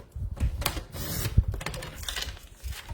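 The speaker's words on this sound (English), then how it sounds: "let's bring back my trimmer and let's trim off even a little bit more" A paper trimmer slices through cardstock for a Snow Wonder fun fold card, giving a run of close, crisp clicking and scraping strokes with a sharper snap midway, and no voice over it.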